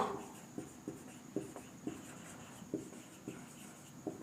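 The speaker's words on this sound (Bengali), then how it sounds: "এখানে লিখছি" A marker or chalk moves across a board in a classroom, giving short, faint scratching strokes at an irregular pace against quiet room tone.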